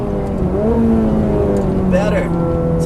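Ferrari F430 V8 engine downshifting and cornering on a track, revs rising and falling in pitch with a blip near the start and another after two seconds, close and loud beneath a voice talking.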